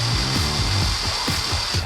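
A handheld power drill runs in short bursts, its motor whirring up and down repeatedly at close range, loud and alone.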